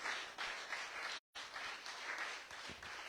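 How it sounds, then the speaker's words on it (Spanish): Church congregation applauding the Lord during a Spanish-language sermon, a steady broadband clapping wash with a brief silent gap midway, fairly faint and with no talk over it. "dele un aplauso fuerte al Señor"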